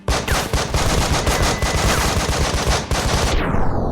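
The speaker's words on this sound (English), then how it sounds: "Flashbang out." Sustained, loud gunfire fills the tactical game Breach and Clear after a flashbang, with dense overlapping shots and bursts that briefly dip before resuming.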